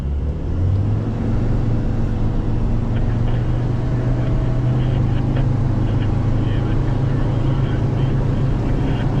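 A 4WD vehicle grinds up a sand track in first gear with spinning wheels, a loud, steady engine drone that holds throughout while voices talk over it.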